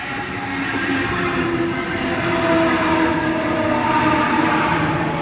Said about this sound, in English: we have a Waratah arriving for a Central via Granville service